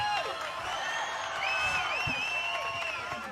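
A Tamil audience at an awards event cheers and whoops on and off throughout, with high shouts rising above a continuous crowd roar and no one speaking clearly.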